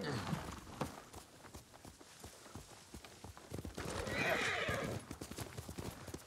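Horse hooves clip-clop in a rhythmic walking gait in the samurai video game Ghost of Tsushima, with a neigh partway through and someone talking over the sounds.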